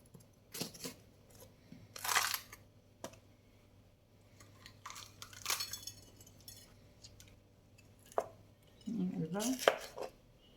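A knife slices green pepper into strips on a cutting board for chicken fajitas, producing scattered close cutting taps and knocks with quiet gaps between them.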